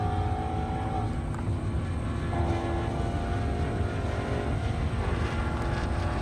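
Maule M6 light airplane at the Indy Airstrip Attack event, its engine a steady, loud droning hum throughout with a slight pitch shift partway, no talking.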